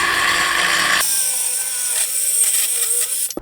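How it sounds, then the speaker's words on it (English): Porter Cable saw with an Ashland 36-tooth blade cutting 3/4-inch hickory, a loud high whine that drops into a steady ringing spin-down after the cut, close and without talk. "this is hickory, and this Porter cable just ran through it like it was butter"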